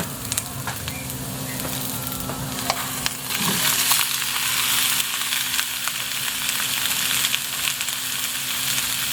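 Pork belly hits a pan of sautéed onions, setting off loud, close sizzling that swells a few seconds in and keeps going steadily, with intermittent clinks and stirring scrapes from utensils; no voices.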